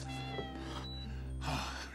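A cat meows twice in an underground setting, each call drawn out and clear above a steady low mechanical hum.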